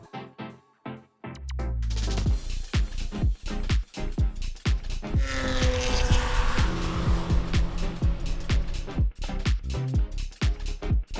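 A car on General G-Max RS tires laps the 4-mile, 14-turn Road America racetrack, engine revving loudly through rising and falling gear changes, with tire squeal in the corners, close and continuous.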